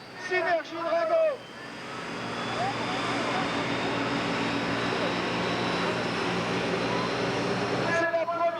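A French tractor-pulling tractor at a 1995 competition in Bernay roars at full power, a loud sustained engine drone that builds and holds for several seconds, with a commentator talking before and after.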